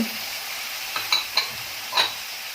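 Cowpea curry with tomato and brinjal being stirred in a pan over a low flame, giving a soft, steady sizzle broken by three or four brief scraping clicks of the spoon.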